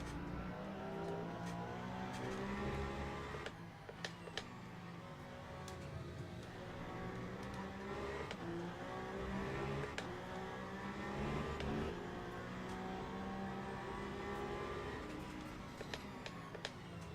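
Porsche and Toyota endurance race cars lapping at the 6 Hours of Qatar, a continuous high-pitched engine drone with rising and falling revs and gear changes, heard faintly and steadily throughout with occasional sharp clicks.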